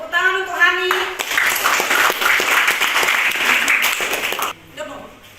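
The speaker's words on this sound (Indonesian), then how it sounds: "tepuk tangan untuk Hani" Classroom applause for a student named Hani during a drama lesson, a burst of clapping from a group of students lasting several seconds after a short spoken line, then fading out.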